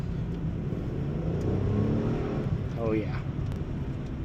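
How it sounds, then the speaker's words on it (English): A 2005 Hyundai Tiburon V6 with a six-speed manual and a slipping clutch drones steadily under throttle, the engine note rising briefly as the clutch slips, while someone speaks over it. "Slipped right there. Just giving it a little bit of throttle."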